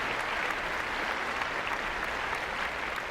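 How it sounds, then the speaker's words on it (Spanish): Members of a church congregation applaud at length, a steady, unbroken patter of many hands heard at moderate loudness throughout, with no speech on top. "¿No le dan un aplauso al Señor por eso,"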